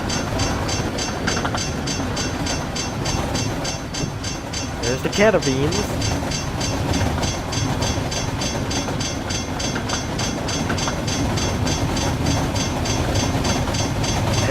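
A train in a Roblox railway game rolls steadily along the rails, with constant rumble and rhythmic clickety-clack, while someone speaks briefly over the running noise.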